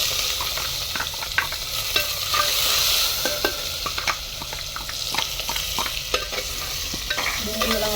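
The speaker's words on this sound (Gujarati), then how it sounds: "ડુંગળી નાખી દઈએ." Chopped onion drops into hot oil already seasoned with cumin and asafoetida over a rustic clay stove, giving a loud steady sizzle broken by repeated scraping stir strokes of a spoon against the pan.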